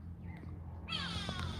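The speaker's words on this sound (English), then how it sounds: "That's a kweevoël. Voël is the word that we use for bird in Afrikaans." A go-away-bird (kweevoël) gives a harsh, nasal, drawn-out call, loud and near, rising out of a quiet low background hum in the second half.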